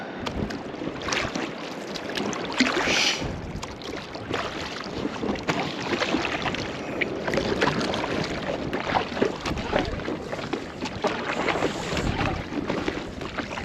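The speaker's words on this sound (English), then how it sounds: "Let's go for a paddle." Water sloshes and splashes under steady wind, a continuous outdoor wash that fits an inflatable kayak being paddled, with no voices.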